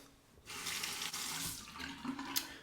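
Tap water running steadily into a sink to rinse a Edwin Jagger Chatsworth safety razor mid-shave, a close, continuous splashing rush starting after a brief pause, with faint clinks near the end.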